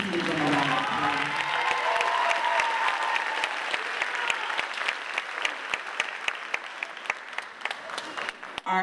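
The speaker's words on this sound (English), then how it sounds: "Please give them a round of applause." Audience applause at an 8th grade bridging ceremony, a dense, steady clapping from a seated crowd that thins toward the end into scattered individual claps.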